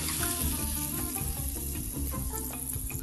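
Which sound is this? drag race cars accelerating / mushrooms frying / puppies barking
mushrooms frying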